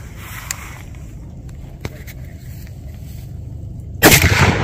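A .50 BMG rifle fired at a helmet bursts out near the end as one loud, sharp blast, following a stretch of quiet outdoor ambience with a couple of faint knocks.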